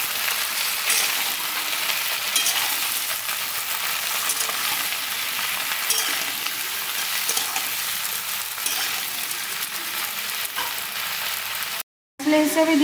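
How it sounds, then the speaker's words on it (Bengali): Vegetables stirred in hot oil in a wok for a vegetarian Malabar spinach dish, making a steady, loud, continuous sizzle with faint scraping from stirring throughout, close and unbroken until a brief cutout near the end. "অন্যান্য সবজিগুলোকে একটু নেড়ে নিচ্ছি তেল দিয়ে"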